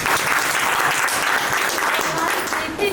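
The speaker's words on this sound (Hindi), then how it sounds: "हमारी मैम लक्ष्मी मैम के लिए जोरदार ताली हो जाए।" Loud, sustained audience applause fills the room at a franchise launch event in Ayodhya, a dense wash of clapping hands that lasts throughout while a voice speaks over it.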